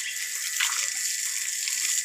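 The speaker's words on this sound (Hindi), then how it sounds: "टैंकी से मशीन लगा लो, मोटर, और ये पानी दे दो पौधों को।" Water is poured onto plants, making a steady, continuous splashing hiss that swells briefly partway through.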